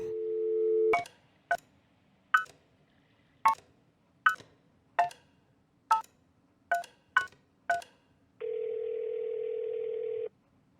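Telephone dialing in the video game Kentucky Route Zero: a steady tone, then about ten quick, evenly spaced keypad beeps, and a final longer buzzing tone.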